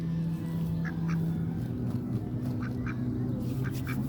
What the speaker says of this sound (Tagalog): Wild duck yan dito sa Italy. Italian wild duck.